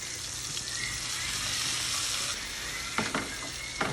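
A smashed burger patty with onions sizzles steadily on a hot surface, a dense continuous crackle with a few brief scraping clicks near the end and no talking.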